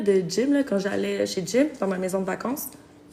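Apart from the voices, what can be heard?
No everyday noises stand out.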